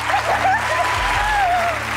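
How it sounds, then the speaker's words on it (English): A game-show studio audience on Deal or No Deal claps and cheers, with whoops and whistles sliding over the applause and a low musical hum underneath, all packed into two loud seconds. "Yay, everybody clap."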